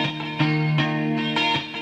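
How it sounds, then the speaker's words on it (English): Sustained electric guitar notes with delay, echoing repeats trailing behind each one, ringing and smooth, from a song. "Lovely delay on the guitar too."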